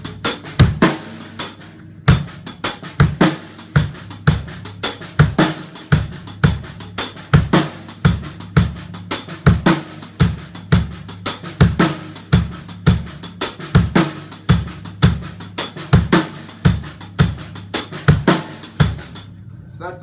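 A drum kit plays a shuffle groove with added kick drums, giving a steady, dense stream of hi-hat and snare ghost strokes over regular kick hits. It is played close and loud for twenty seconds with no talk.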